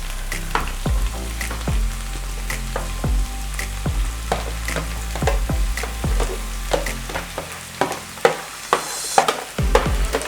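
Leek added to meat that has simmered in a pan for over thirty minutes on low heat, a steady close sizzle with repeated thuds and scrapes of stirring, growing sharper and more uneven toward the end.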